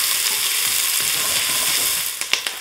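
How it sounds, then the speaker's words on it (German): Chopped onions sweat in a pot as the first step of a pineapple chili soup, giving a steady close sizzle that fades near the end into a few sharp scraping clicks. "jetzt geben wir uns auch schon unsere schnittenen Zwiebeln da rein. Schwitzen das Ganze da einmal um."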